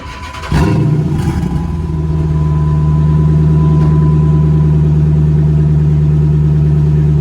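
A 5.7L HEMI V8 in a retired police car cranks and fires up with exhaust cutouts open, a sudden loud bark, then a deep, rumbling, lumpy idle that stays loud and steady.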